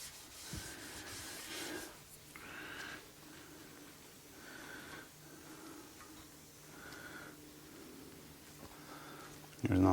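Excess ceramic coating (Kamikaze) is wiped off a Volk CE28N car wheel, giving faint, soft rhythmic rubbing strokes, quiet and close with low background noise.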